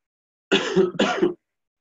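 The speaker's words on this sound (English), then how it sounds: "Excuse my cough." Two harsh, broadband coughs in quick succession, close and fairly loud, with silence before and after.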